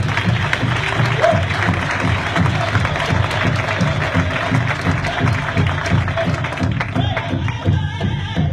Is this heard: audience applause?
yes